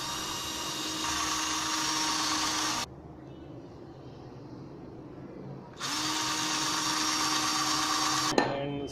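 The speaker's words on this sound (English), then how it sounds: "better have to drill the holes in them, otherwise it will crack the wood" A power drill boring holes in wood, running in two steady high-pitched bursts separated by a quieter pause, close by with no talk.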